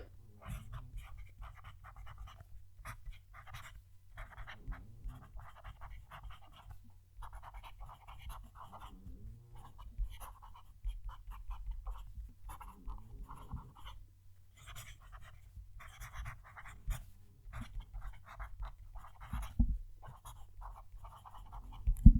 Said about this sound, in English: The nib makes a lot more noise. It's like it's singing to me as I'm writing.